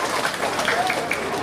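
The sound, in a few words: applause for the organising committee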